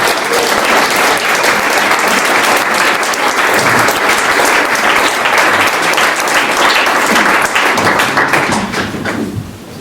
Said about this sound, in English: let us praise and clap and applaud Andrea Watson